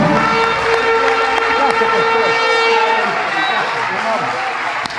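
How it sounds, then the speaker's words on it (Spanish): A church congregation applauds during a Spanish-language worship service, with loud sustained clapping and crowd noise under music and voices. "Dele un aplauso al Señor Jesucristo"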